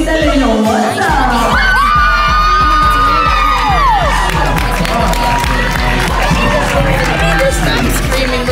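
Dense crowd noise at a dance competition awards ceremony: audience members scream, whoop and cheer loudly and continuously, with high-pitched shouts rising over a steady roar and voices mixed throughout.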